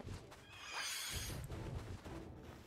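A fire horse creature from the Palworld video game whinnies once, loud and close, a rising cry with hoofbeat-like thuds below and no talk.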